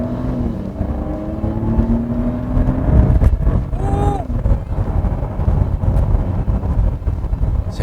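A Mercedes GLE with a six-cylinder engine accelerates in sport mode, its engine tone climbing steadily with a brief gear-change dip, heard from inside the cabin amid wind and road noise.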